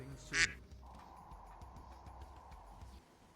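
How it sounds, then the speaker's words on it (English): A single duck quack in the Sonic Adventure video game, short and loud near the start, over a steady hum of game background sound that keeps going until near the end. "who let the duck in here?"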